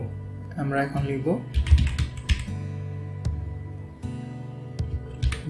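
Keys on a computer keyboard clatter in short bursts of quick taps while Bangla text is typed, with a voice speaking softly between the typing.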